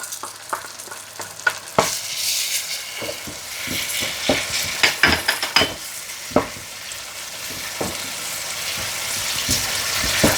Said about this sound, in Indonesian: Bawang merah sekalian tumis.